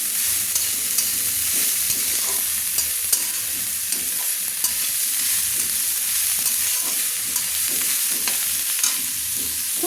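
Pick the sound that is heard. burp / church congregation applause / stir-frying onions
stir-frying onions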